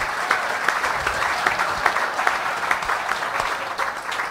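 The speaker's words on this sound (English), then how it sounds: "big round of applause, that was incredible" Audience applause after a poem recital, a dense, steady patter of many hands clapping at close range, sustained throughout with sharp individual claps standing out.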